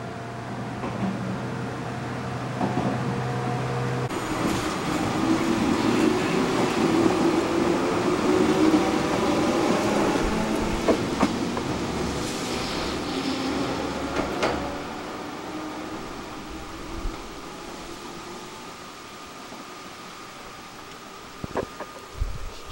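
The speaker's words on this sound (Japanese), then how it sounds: "雨が降っているので線路がツルツルになって滑ってしまうので、そうするとモーターがものすごい勢いで空回りして" Train motor on the Kisei Line roaring as the wheels slip on rain-wet rails, a steady loud rumble and whine from under the floor, heard from inside the carriage with no talk.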